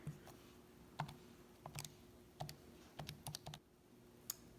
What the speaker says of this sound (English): now I can type this into the calculator